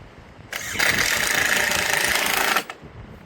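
An impact wrench drives fasteners through timber with a single continuous rattling burst of about two seconds, loud and close, starting and stopping sharply against a quiet background.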